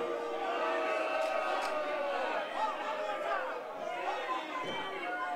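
A wrestling crowd at a men's tag team match grumbles and murmurs in displeasure, a broad, steady wash of overlapping voices with a few louder shouts rising out of the din.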